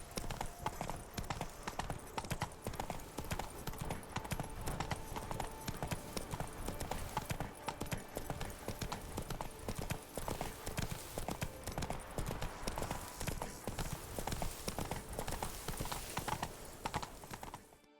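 Horse hooves gallop in a fast, steady clip-clop rhythm throughout, loud and close, in the Witcher 3 Blood and Wine video game, with faint ambient game sound underneath.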